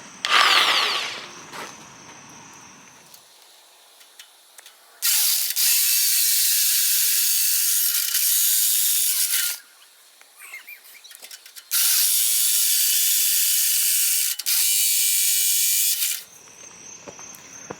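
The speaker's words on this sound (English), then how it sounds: "I got my Ryobi jigsaw here, so I'm pretty much just gonna trim out my my marker line that I might made there." A Ryobi jigsaw trims thin metal along a marked line for header clearance on a 1978 Malibu Classic, with loud, close, harsh buzzing cuts in two long bursts separated by brief pauses.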